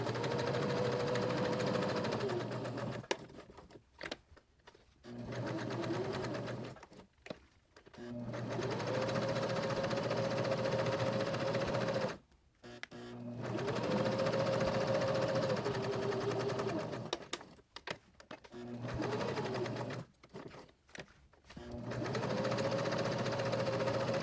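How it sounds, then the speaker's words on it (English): A sewing machine runs a narrow zigzag stitch around fabric pieces for a portable tic-tac-toe game, humming in several sustained bursts separated by short stops, close and fairly quiet. "I'm just going to stitch all the way around them using that narrow zigzag stitch."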